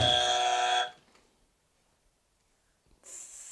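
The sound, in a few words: quiz buzzer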